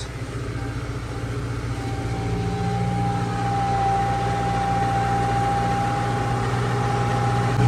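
A TD 95 tractor climbs a ramp in second gear, its engine a steady low rumble that swells slightly as it works, with a thin constant whine riding on top.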